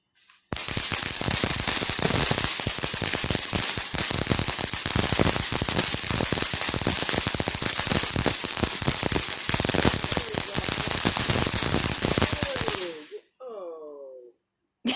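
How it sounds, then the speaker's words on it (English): Fourth of July fireworks crackle at night in a dense, continuous barrage of rapid pops and bangs, loud and close for most of the clip before cutting off near the end. "This is the first time we have bought this kind of fireworks."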